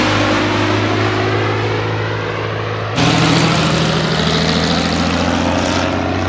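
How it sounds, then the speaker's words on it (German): A propeller airplane passes overhead outdoors, its loud, steady engine drone filling the whole stretch and swelling a little louder partway through, with no talking. "Ein Flugzeug ist über mich rübergeflogen, schon wieder."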